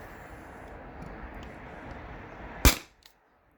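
A T4E HDP50 launcher powered by a 12 gram CO2 cartridge fires a single sharp, loud shot after a quiet stretch of low background noise, followed by a faint click.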